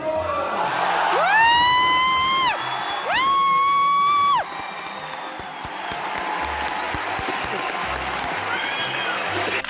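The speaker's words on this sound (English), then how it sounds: "I never heard so many people screaming on the top of their lungs at the same time." An audience at a NieR orchestra concert in Barcelona roars, two long, loud, high screams and whoops rising over steady applause and crowd noise, which continue after the shouting fades.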